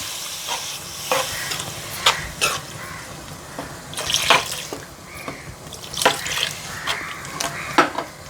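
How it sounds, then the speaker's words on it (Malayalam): Water splashes into a hot pan of spiced meat cooking for a home Christmas meal, with sharp bursts of sizzling and spatter repeating every second or so over a steady frying hiss. "നമുക്ക് കുറച്ച് വെള്ളം ഒഴിച്ച് കൊടുക്കാം"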